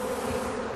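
A steady, dense buzzing of a swarm of about 20,000 bees clustering on a tree branch, continuous and fairly close, with no voices.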